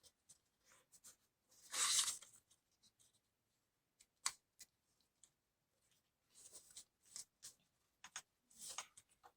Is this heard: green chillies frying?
no